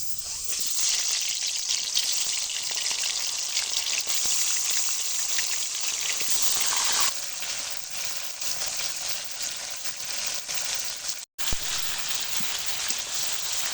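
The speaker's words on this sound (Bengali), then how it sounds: "তেলটা খুব ভালো করে গরম হয়ে গেছে এবারে চিকেনগুলো ভেজে নেব" Chicken pieces fry in very hot mustard oil over a clay stove, making a dense, rain-like hiss that runs almost unbroken and close, with one brief cut near the end.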